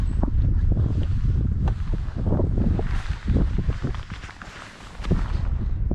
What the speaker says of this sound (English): That wind is getting chilly.